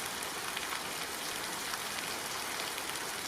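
Steady rain pours down in an audio drama, a dense even hiss of drops falling on a surface, continuous and fairly loud with no voices.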